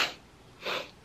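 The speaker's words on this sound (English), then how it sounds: "Do not sniffle." Two short nasal sniffs or snorts from a person, the first at the very start and a second fuller one near the middle, quiet and close with no talking.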